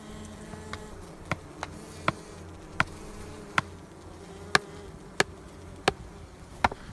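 Bees buzz around beehives in a mountain setting, a faint steady hum under a series of sharp, evenly spaced clicks or taps heard without any talk.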